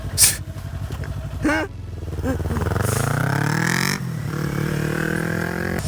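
Kawasaki Ninja motorcycle downshifting with the clutch let out slowly, a couple of sharp clunks and a blip, then a loud, close engine note that climbs and holds steady as revs build, dipping briefly before rising again.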